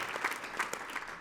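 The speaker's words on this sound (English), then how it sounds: "Let's give all three a really long round of applause for their tenure to the village" Gala audience applauding, a soft continuous patter of many hands clapping at moderate distance, fairly quiet and even throughout.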